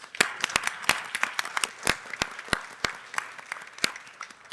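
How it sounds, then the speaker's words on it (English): Scattered applause from a modest audience at a healthcare conference: a loose run of sharp, distinct claps with gaps between them, moderately loud, with no voices over it. "give her a round of applause, please."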